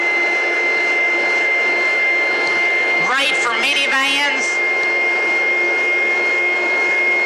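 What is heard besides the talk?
carpet cleaning machine revving up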